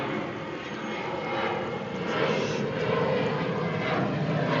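A propeller aircraft flying over near Burbank Airport, a steady broadband engine drone that swells slightly louder toward the end as it passes overhead, with no one talking.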